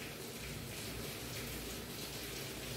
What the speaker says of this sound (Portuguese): vocês estão escutando esse barulho é porque está chovendo